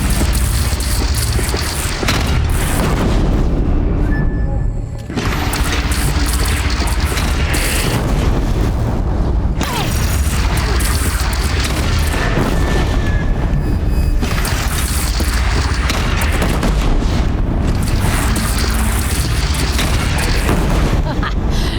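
Cannon fire in Horizon Zero Dawn, heavy booms and explosions rolling continuously over a loud, dense battle din, with voices in the mix.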